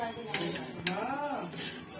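Coriander and cumin seeds roast in a pan, with a few sharp clinks of a utensil against the metal and a faint sizzle underneath, while a voice speaks over the stirring.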